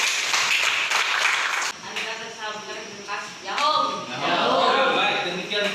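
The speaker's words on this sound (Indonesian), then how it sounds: "Silakan beri tepuk tangan dulu." Classroom applause for a student group presentation in an Indonesian junior high school class, a burst of clapping hands that fades, then a teacher speaking over lighter scattered claps.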